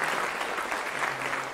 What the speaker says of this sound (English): we get a round of applause for these three guys